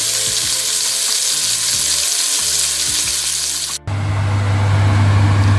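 Sausages and green asparagus fry in a pan with a steady, loud sizzle, broken by a brief gap before the hiss resumes over a stronger low hum.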